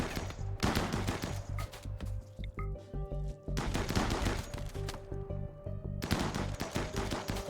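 Rapid gunfire from colonists in a Rimworld firefight, dense bursts and single shots rattling in loud clusters with brief lulls between volleys.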